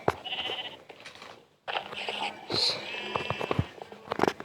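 Sheep bleat in Minecraft amid game sounds and a few footsteps, with short cries repeating over a busy, moderately loud background.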